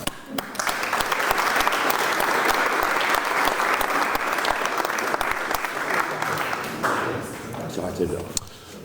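Loud audience applause fills a 2024 election hustings with local parliamentary candidates, a dense, steady burst of clapping that carries on for several seconds before tapering off.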